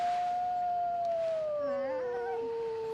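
A single long wolf howl plays back from a recording, a sustained tone that slowly slides lower, loud and steady over a constant background hiss, with fainter overlapping howls joining near the end.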